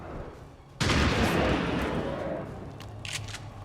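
A sudden loud burst of gunfire from the XCOM 2 video game, followed by a long echoing rumble that fades slowly, with a few faint clicks toward the end.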